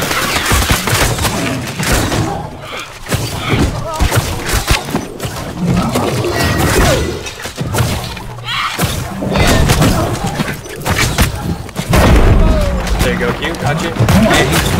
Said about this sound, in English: I'm shooting him in his cloaca